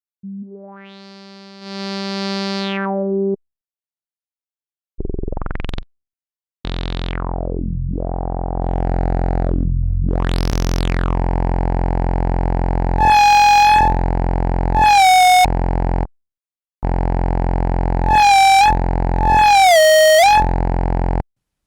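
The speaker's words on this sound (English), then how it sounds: "This is going to be a distorting version of the MG ladder filter." Serum 2 synth tones run through the MG Dirty distorting ladder filter: buzzy harmonic notes with sweeping filter dives, rising whoops and siren-like wobbles, starting and stopping in bursts, loud and close with no talking.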